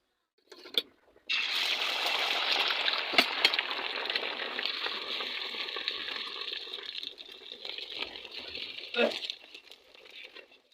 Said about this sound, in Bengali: দেখো এরকমভাবে আরও ডিমগুলো ভেজে নেবো